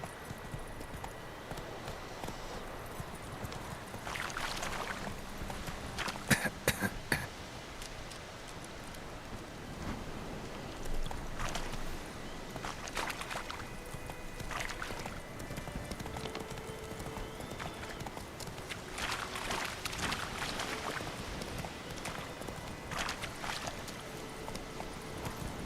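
Roach, a horse in The Witcher 3, trots with steady rhythmic hoof clip-clops under a constant wash of rain, moderately close, with no speech.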